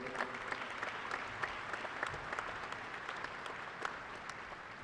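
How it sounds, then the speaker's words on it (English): An audience applauds at a university fall commencement ceremony, a sustained, even wash of clapping from a large crowd heard at a moderate distance. "Another round of applause there."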